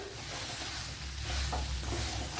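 Spice powders, including Kashmiri chilli powder, roast in a pan for a bitter gourd curry, giving a faint, steady sizzle and soft stirring hiss throughout with no talk.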